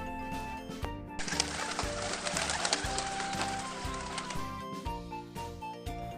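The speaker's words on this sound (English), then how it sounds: "Pigeon makes a coo sound." Pigeon cooing in soft, repeated low murmurs under a steady bright rustling wash, close and continuous, with no talk.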